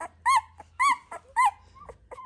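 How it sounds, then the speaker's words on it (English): A doodle puppy gives three short, high squeaks at a steady pace, followed by a couple of softer whimpering squeals, close by. "and little Floyd squeaking."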